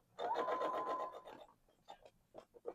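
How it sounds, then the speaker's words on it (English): Brief whirring run of a sewing machine joining garment fabric with folded binding, lasting just over a second, followed by soft scattered rustles and taps of handling. "But we're going to fold this piece down as we sew it together here."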